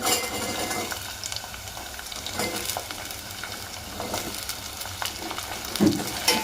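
Sliced onions sizzling in hot oil in a pan, a continuous loud crackle with occasional scraping stirs, for an avalakki dish with sabsige greens; no voices.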